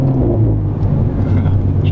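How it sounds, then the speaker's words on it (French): A Renault Megane 4 RS exhaust rumbles deep and steady at close range, a low continuous tone with a faint hint of speech under it. "moi je préfère que ce soit un bel échappement bien travaillé"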